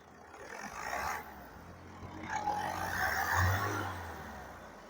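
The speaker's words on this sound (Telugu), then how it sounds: "ఒకసారి రేజ్ చేయండి" A 2016 Ford EcoSport Titanium engine is revved while the car sits still: a steady idle rises into a swelling roar and then eases back, close and fairly loud with no voices.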